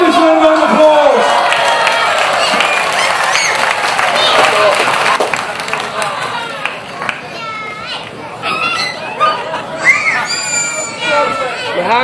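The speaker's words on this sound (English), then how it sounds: "Give us one round of applause." Crowd applause and cheering at an outdoor chilli eating contest in Dorset, loud and sustained with excited children's voices and chatter mixed in, tapering into scattered whoops.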